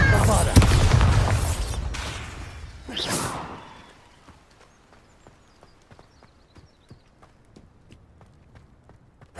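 A Confringo fire-blast spell in Hogwarts Legacy bursts with a loud whooshing boom, then fades into quiet, evenly spaced footsteps as a character walks away.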